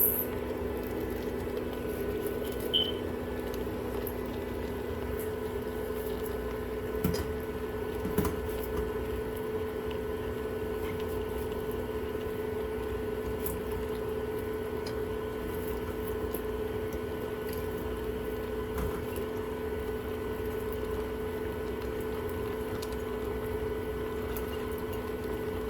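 Curry chicken with potatoes and carrots simmering in a pot, a steady low bubbling and soft patter that runs unbroken and fairly quiet throughout, with a few faint clicks and no one talking.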